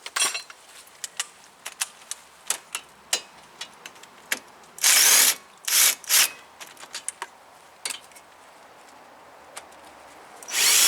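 Breaker bar cracking loose a rusty 17mm caliper bracket bolt on a 2015 Toyota RAV4 during a front brake pad job: a series of sharp metallic clicks and ratcheting snaps, then a few louder bursts of scraping and clanking, close and loud.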